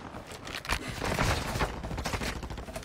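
Dense bursts of rapid gunfire in the video game Fortnite, overlapping shots crackling loudly and continuously through the whole stretch.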